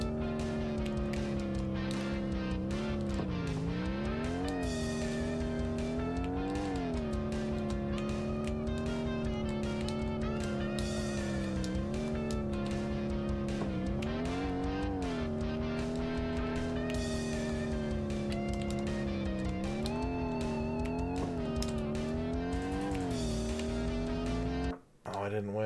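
A race car engine roars steadily in a 32X racing video game, its pitch repeatedly climbing and dropping with gear shifts and corners, loud and continuous alongside game music and someone talking.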